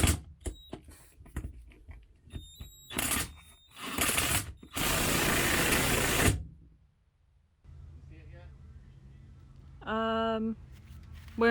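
A power drill drilling through an RV wall whirs in a loud sustained burst after some clicks and handling noises, then quieter rustling and a short mechanical whine follow.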